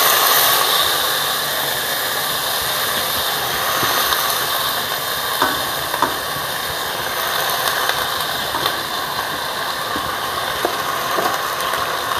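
Washed, dried spring onion greens hit a hot pan of oil with bloomed cumin, giving a loud, steady sizzling hiss that runs unbroken throughout, with a few faint clicks and no voices.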